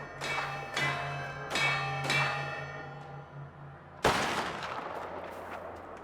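Gunfire in the video game Mafia: The Old Country: five sharp, loud shots with ringing tails, four spaced across the first two seconds and a heavier blast near the end, followed by a rumbling decay.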